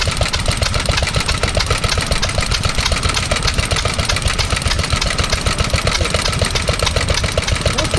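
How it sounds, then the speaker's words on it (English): A Lister D stationary engine driving a water pump at an engine show, chugging loud and close with a fast, steady firing beat and a mechanical clatter that never changes pace. "there's a Lister D with a water pump"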